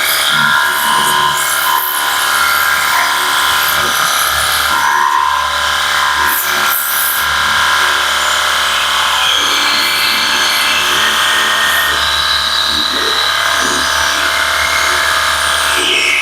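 A cordless electric water spray gun running continuously, a loud steady high-pitched motor whine with hissing spray, close up throughout.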